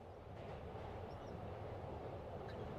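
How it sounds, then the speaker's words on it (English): A subway train in the Spider-Man video game rumbles past, a steady low roar with wheel clatter that holds even and loud all the way through. "Don't mind me, I'm just taking the subway."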